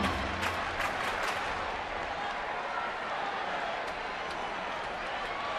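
A baseball crowd at a Houston at San Francisco game cheers and applauds steadily after a hit, a dense, sustained roar of many voices and clapping throughout, with sharper bursts of claps near the start.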